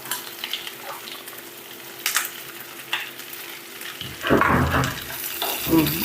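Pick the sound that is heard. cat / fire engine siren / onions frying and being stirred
onions frying and being stirred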